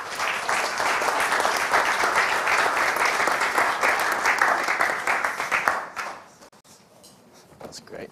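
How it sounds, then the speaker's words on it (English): An audience applauds to welcome speaker Josh at a crypto investor show, with dense, even clapping for about six seconds before it quickly dies away into quiet room noise. "get a round of applause for Josh"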